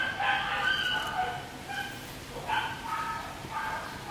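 Dogs barking outdoors in a residential neighborhood in the morning, several short barks in loose bursts, moderately distant, mixed with other outdoor noise and what may be a rooster.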